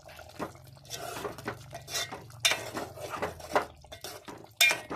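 Chicken curry pieces stirred through masala in a metal pot, a spoon scraping and clanking against the sides in irregular bursts with soft wet squelches in between.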